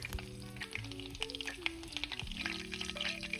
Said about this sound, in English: Now enjoy the sounds of transformation of regular melted butter into pure, beautiful brown butter gold.